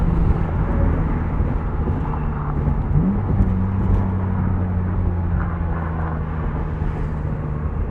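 Steady low engine drone and road rumble from a 1999 BMW Z3 M Roadster cruising, heard from inside the car, with a tonal hum that dips and rises briefly midway; no talking.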